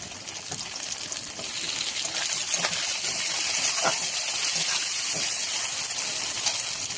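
Chopped tomato drops into onions frying in a pan for Bengali chicken kosha, setting off a loud, steady hiss and sizzle that swells and holds, with a few soft taps.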